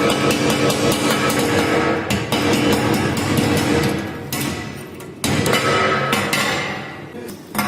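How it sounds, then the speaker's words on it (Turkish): A 3.25 mm welding electrode is struck to knock off its flux coating, giving sharp metallic knocks and thuds in irregular bursts, loud and close, with no talking. "Şimdi hemen örtü maddesini kırıyorum"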